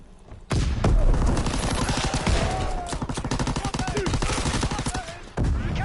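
Rapid hip-fire gunfire in the video game Call of Duty WW2, loud sustained bursts of quick shots running nearly the whole time with a short pause near the end before another burst.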